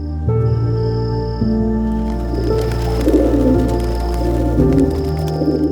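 Pigeons coo in low, soft, repeated calls over a steady hum, with some brief rustling in between.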